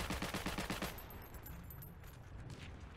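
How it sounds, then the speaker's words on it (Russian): Rapid bursts of gunfire in the war game Heroes & Generals rattle in a fast, evenly spaced volley for about a second, then give way to a more distant, rumbling exchange of shots. "кто-то по мне стреляет"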